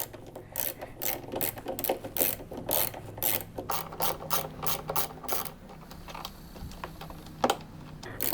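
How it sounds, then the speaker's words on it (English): A hand ratchet loosens bolts on a scooter, clicking in quick, steady bursts of sharp pawl ticks, close and loud, pausing briefly before the rhythm resumes. "let's start with a ratchet situation"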